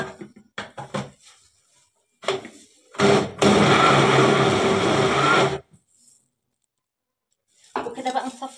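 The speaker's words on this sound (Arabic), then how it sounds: "ننزل بيه في الخلاط، هنعمل بيه احلى عصير مانجا مركز" A blender runs loud and steady for about two and a half seconds, blending mango with iced water into juice, between short clinks of dishes and utensils.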